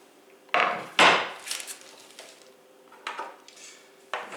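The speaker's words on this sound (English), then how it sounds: "Then I'm going to add the chopped up apple to the vegetable mixture." Chopped apple pieces tumble into a pan of vegetables for a sheet pan dinner with delicata squash and sausage, landing with a few sharp clattering knocks and scrapes of a utensil against the pan, loud and close, with quieter stirring in between.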